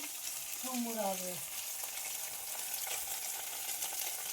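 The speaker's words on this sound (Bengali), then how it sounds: "কিছু মাছ ভাজা হয়েছে" Fresh pond fish frying in oil on a clay stove gives a soft, steady sizzle throughout, fairly quiet, with a brief falling tonal squeak early on.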